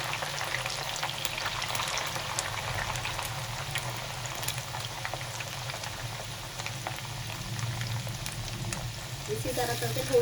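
Potato chips frying in oil in a large frying pan, giving a steady, dense sizzle and bubbling that runs unbroken throughout at a moderate level.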